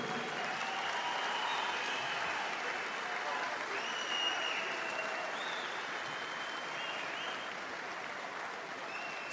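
Sustained applause from a large crowd at a Kosovo political rally, dense clapping and cheering holding steady throughout with a few whistles rising above it.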